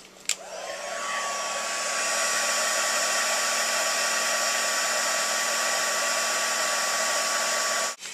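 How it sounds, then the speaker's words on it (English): A heat tool blows steadily to heat-set embossing powder on a festive snowflake ornament, a continuous even whoosh rising to full strength and holding for about eight seconds with no talking. "I'm going to just heat set that"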